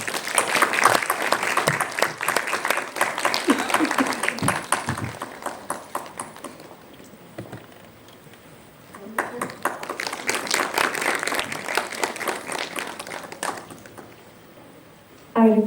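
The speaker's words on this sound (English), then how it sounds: "Please give a huge round of applause." An audience at the 2024 Creative Economy Forum in India gives two rounds of brisk applause separated by a brief lull, with dense, close clapping and a final short burst.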